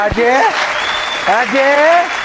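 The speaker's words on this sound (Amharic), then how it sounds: "ሞቅ ያለ ጭብጨባ።" Steady, loud applause from a TV studio audience fills the background while a voice speaks over it, the clapping continuing without a break.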